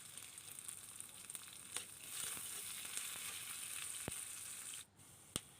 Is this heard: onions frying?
yes